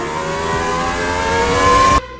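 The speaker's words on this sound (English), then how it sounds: "naturally aspirated V12 producing 650-ish horses isn't a big deal by today's standards, and yet it's the most amazing engine ever made" A naturally aspirated V12 of about 650 horsepower screams at high rpm toward its 12,000 rpm redline, a loud, close, steady howl that climbs slightly before cutting off abruptly near the end.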